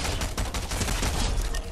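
Rapid, dense Fortnite Battle Royale gunfire rattles continuously for the whole short span, loud and close, with shots packed tightly together.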